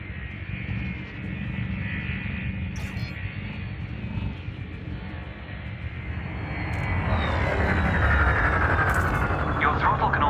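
A spaceship's engine hums with a steady roaring thrust in Elite Dangerous, swelling louder toward the end, while a voice talks over it.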